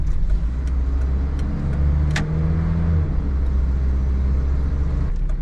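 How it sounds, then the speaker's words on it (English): Daihatsu Rocky driving at steady speed, with a continuous low engine and road rumble heard from inside the cabin and a brief click partway through. "First time driving a Daihatsu Rocky."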